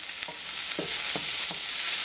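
Ham and potato cooking in a ceramic pan on a hob, a steady soft sizzle broken by four light stirring scrapes spaced through the moment, with no voices.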